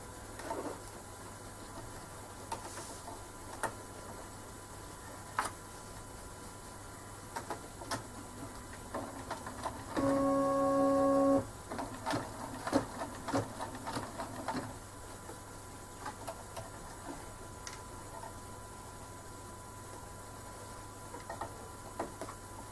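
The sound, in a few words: embroidery machine doing decorative stitching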